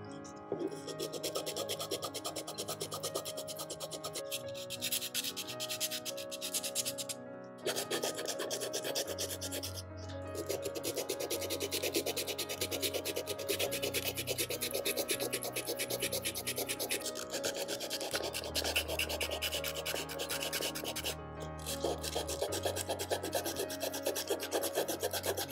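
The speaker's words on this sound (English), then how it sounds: "Let's get to sanding." Continuous rasping and rubbing, sandpaper scraping steadily over a ball-jointed doll's surface for the whole stretch, with music playing underneath and no speech.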